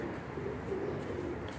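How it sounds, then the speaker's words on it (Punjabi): A pigeon kept by a Punjabi fancier coos softly in a low, throaty rolling murmur, faint and brief, with no voices over it. "ਅੱਜ ਤੇ ਮਾਸ਼ਾਅੱਲਾ ਬੜਾ ਕਮਾਲ ਦਾ ਕਬੂਤਰ ਜੀ"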